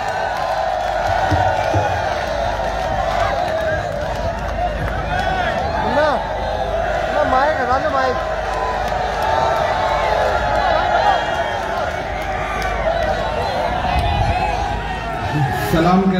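A large mushaira crowd in Rajasthan cheers and whoops to welcome poet Imran Pratapgarhi, a continuous roar of shouts and calls over a public-address voice, loud and sustained throughout.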